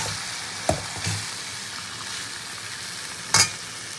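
Meat cooked down with a spice paste of ground black pepper, yogurt and tomato sizzles softly in a pan, a low steady frying hiss broken by a few brief stirring scrapes.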